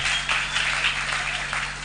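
A church congregation claps loudly, a brief continuous burst of applause filling the room.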